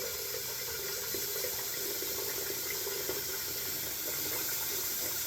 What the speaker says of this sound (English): fill up this old sink here with some warm water